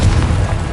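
A Confringo explosive spell goes off in Hogwarts Legacy, a single loud, deep blast with a rumbling tail, close and brief.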